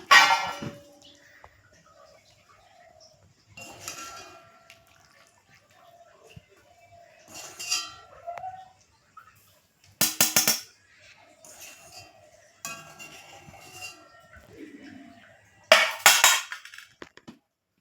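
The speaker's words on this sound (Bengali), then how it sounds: "এখন আমি এই জল থেকে সেদ্ধ করা ম্যাগিটা উঠিয়ে নিচ্ছি।" Sparse metal clinks and scrapes of kitchen utensils sound against a pot as boiled Maggi noodles are lifted out of the water, with quiet pauses between the taps and a few sharper clanks.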